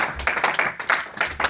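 A church congregation claps in praise of Jesus, several uneven bursts of hand claps fairly close by, with no talk over them.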